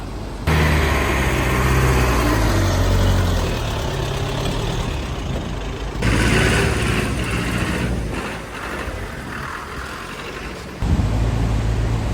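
A tractor engine on a mountain road on the way from Dir to Thal Kumrat rumbles loud and close, a deep continuous drone that shifts in tone and intensity as it moves, with no voices.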